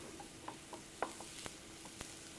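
Vegetables softening in a pot for grits and collards soup are stirred, bringing a quiet, low sizzle and a handful of light spoon taps and scrapes spaced about half a second apart.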